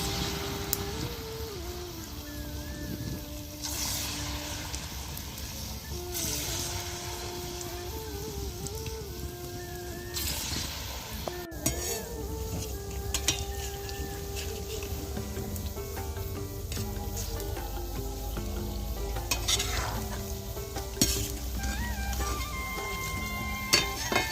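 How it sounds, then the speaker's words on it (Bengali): Palm fruit fritters made with semolina deep-fry in very hot oil on a village stove, giving a steady low sizzle throughout, with occasional clinks and faint tonal background sounds. "তো এবার আমি বড়াগুলো ভেজে নেব।"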